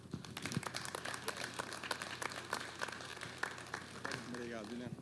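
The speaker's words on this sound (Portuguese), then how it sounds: "uma salva de palmas, pessoal" Audience at a panel session on dam management claps for a speaker coming onto the stage, scattered sharp hand claps over a quiet room, with a voice briefly speaking near the end.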